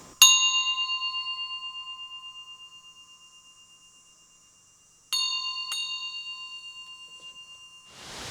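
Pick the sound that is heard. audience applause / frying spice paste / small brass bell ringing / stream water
small brass bell ringing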